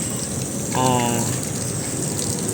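Water sprayed from a hose across a roof to imitate rain, a steady dense hiss of droplets pattering on the surface, swelling briefly partway through, close and continuous with no talk.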